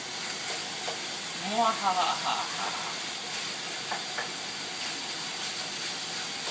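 Meat browning in a pot for shepherd's pie, a steady low sizzle and hiss running throughout with occasional stirring scrapes and a brief clatter midway, close and moderately quiet.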